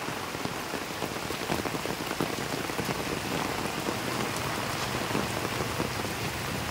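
Heavy rain pours steadily onto flooded ground in front of a house in the Philippines, a dense, even hiss of drops with no pauses, close and continuous throughout.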